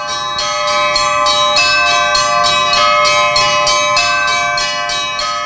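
Festive Orthodox church bells peal during Easter's Bright Week at a newly built monastery on the outskirts of Komrat, ringing loud, close and bright, with a steady run of about a dozen overlapping strikes and no voices.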